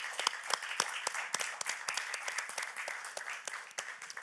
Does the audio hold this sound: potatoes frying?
no